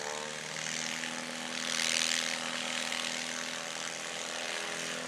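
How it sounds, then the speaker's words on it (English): A Badlands Traveler STOL plane, a Cub-type propeller aircraft, takes off short at a STOL competition. The engine drone is steady and moderately loud, swelling briefly as the plane passes and then holding level, with no voices. "Here she goes, off short. That was a really good takeoff."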